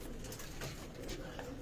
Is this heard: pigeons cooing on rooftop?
yes